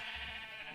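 A sheep in the video game Crysis gives one short, sustained bleat, close and fairly loud, with nothing else heard around it.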